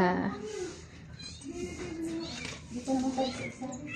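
Several high, drawn-out cat meows overlap close by, mixed with other small noises and a person speaking nearby.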